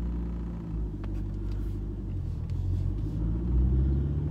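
A car is driven slowly on clutch control, giving a steady low engine and road rumble from inside the cabin that swells slightly toward the end, with no talking.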